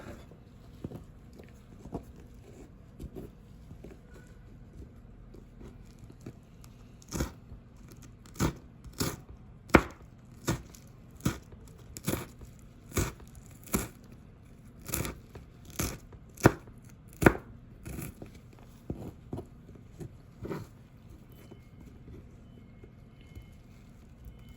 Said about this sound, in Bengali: জিগজেগ জিগজেগ চাকু, এটা মরিচটা খুব সুন্দর করে কাটা হয়